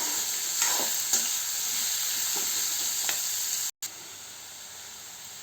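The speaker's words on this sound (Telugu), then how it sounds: "చిన్న చిన్న పీసులుగా కట్ చేసుకొని అదే ప్యాన్లో వేసి వేయించేసుకున్నాం" Radish pieces frying in a pan for radish chutney, a steady close sizzle with soft stirring scrapes and brief gaps, no talking.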